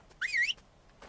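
Whistle command in the video game ARK, a single short rising-and-falling whistled tone lasting about a third of a second, clear and fairly loud against a quiet background.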